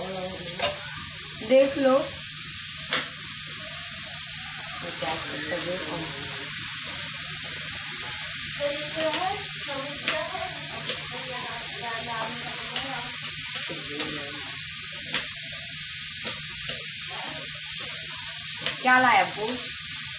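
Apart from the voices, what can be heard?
ragda cooking on a gas stove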